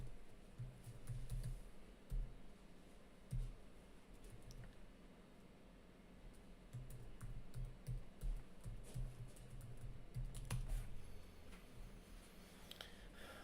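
Computer keyboard typing while logging back into a system: steady, soft key taps and occasional louder clicks continue for several seconds, close up over a low background hum, with no talking.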